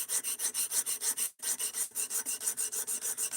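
Steady rhythmic rasping strokes of a knife edge drawn across a sharpening stone on a guided sharpening system, about two strokes per second, close and clear with one brief pause midway, no talking.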